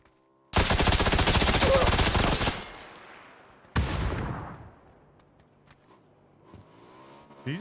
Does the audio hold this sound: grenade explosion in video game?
yes